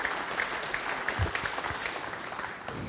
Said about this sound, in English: Well, deserved applause for that one.